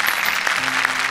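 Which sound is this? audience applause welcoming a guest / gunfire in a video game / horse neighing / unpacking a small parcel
audience applause welcoming a guest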